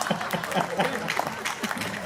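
An audience at a Hindi poetry recital claps in a brief, dense burst of applause while a voice keeps talking over it.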